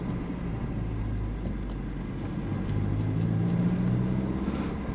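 A 1991 Saab 900 Turbo 16S rolls slowly at low revs, its engine a steady, close low rumble that swells slightly toward the end, with no voices over it.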